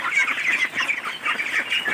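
Hungry farm ducks, one of them large and white, quack and chatter in a busy, overlapping flock close by, with bursts coming in quick uneven succession and no voices.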